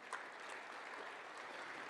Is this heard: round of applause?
yes